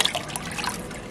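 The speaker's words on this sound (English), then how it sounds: "I don't think that the water noise is going to annoy me" Water trickles into a home fish tank in a soft, continuous burble, fairly quiet and heard on its own.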